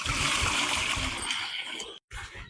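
Water pours into a pot to boil chana dal for a mutton boti curry, a splashing, hissing stream lasting about two seconds, then a short gap and a little more trickle, close and fairly quiet.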